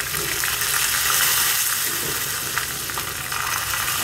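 Curry leaves with cumin and red chilli hit hot oil, a dense, loud, continuous sizzle and crackle with no break, heard close up.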